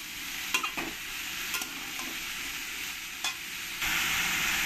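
Ash gourd and potatoes fry in a pan, a soft continuous sizzle with a handful of quick stirring scrapes, fairly quiet and with no voices.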